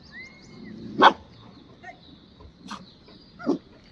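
A puppy barking, three short sharp yips spaced apart against a quiet background.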